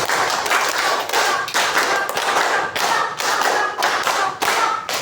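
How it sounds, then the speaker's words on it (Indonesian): Classroom clapping rhythm game: a group of students clap in unison, dense bursts of hand claps in repeated sets with brief gaps between, loud and close, no talking. "Oke, tepuk lima tiga kali."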